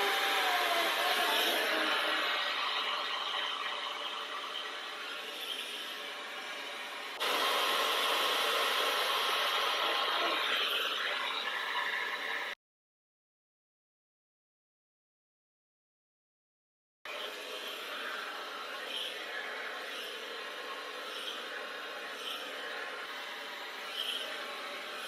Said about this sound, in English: But you can use any hairdryer you want.